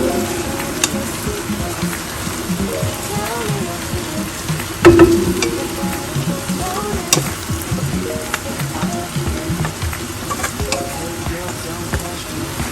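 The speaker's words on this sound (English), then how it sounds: "So now we are dumping all the rice in." Rice dumped into a large pot of vegetable gravy on a high flame for Hyderabadi veg dum biryani: a steady, close sizzling hiss broken by one dull thud and a rush as the rice lands.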